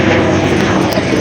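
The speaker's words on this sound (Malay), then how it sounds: "Kapal terbang pula lalu." Loud, continuous roar of a propeller airplane overhead, a broad droning engine noise filling the whole moment without any talking.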